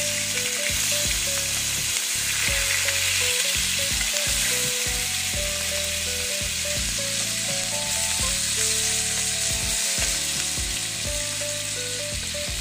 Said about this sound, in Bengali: একটু ভাজবো তো, একটু উল্টিয়ে দিচ্ছি।